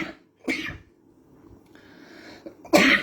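Two sharp coughs, close by, separated by a short pause with faint breathing.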